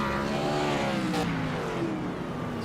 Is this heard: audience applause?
no